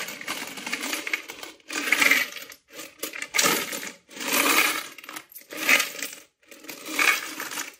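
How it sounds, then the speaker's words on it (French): Bursts of coins clattering and jingling as they are shaken out of a piggy bank, five or six separate pours with brief pauses between, close and fairly loud. "je fais un peu de monnaie avec cette tirelire"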